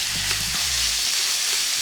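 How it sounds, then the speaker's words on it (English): Ground pork frying in hot oil in a pan, a loud continuous sizzle and crackle heard up close, steady throughout with a brief stirring knock near the start. "Sizzle, sizzle, sizzle."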